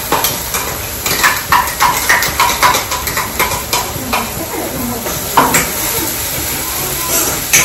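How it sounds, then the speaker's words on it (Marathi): Masala paste fries in a pan under a loud, close sizzle, with rhythmic scraping and clinking as a utensil stirs it repeatedly. "मसाला थोडा वेळ फ्राय होऊ दे"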